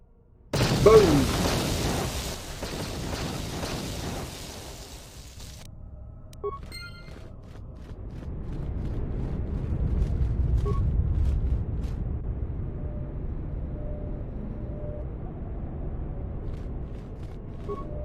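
A large explosion in the PC game KOTOR 2 bursts out loudly, then settles into a lower rumbling roar with a few faint metallic clinks and tones trailing afterward.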